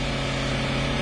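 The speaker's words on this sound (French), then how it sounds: "La Jaguar, qui va de plus en plus vite, double une Honda." A cartoon Jaguar racing car speeds up and overtakes a Honda, heard as a loud, steady, buzzing engine drone that holds without a break for a brief moment.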